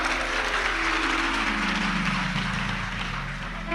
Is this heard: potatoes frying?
no